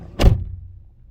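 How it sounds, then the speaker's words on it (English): Driver's door of a 2014 Nissan Sentra S slamming shut once, a close, heavy thunk with a short low rumble trailing off. "Listen to that door."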